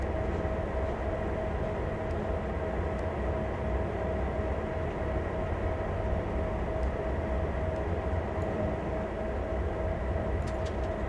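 Locomotive in Train Sim World 2020 running steadily, a continuous low rumble and hum with a faint tonal whine, near and unbroken with no voices.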